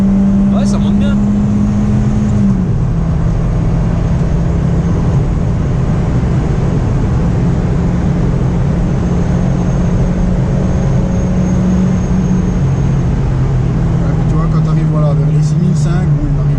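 Peugeot 205 GTI engine revving hard toward the rev limiter, a loud, close, steady rising drone whose pitch climbs, dips at a gear change and climbs again, with road noise underneath.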